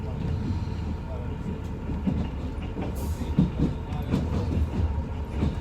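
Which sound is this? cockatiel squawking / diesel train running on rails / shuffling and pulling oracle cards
diesel train running on rails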